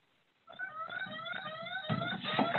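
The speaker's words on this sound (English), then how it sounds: "somebody's phone sounds like an alarm" A phone alarm goes off in the middle of an online security meeting, a steady electronic tone with stacked harmonics starting abruptly and sounding continuously, fairly loud and close, over faint room noise.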